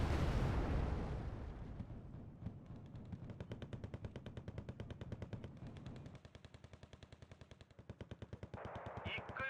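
Rocket barrages and machine-gun fire in the video game Wargame: Red Dragon: a loud opening blast rolls into rapid, sustained bursts of automatic fire. A harsher volley breaks in near the end.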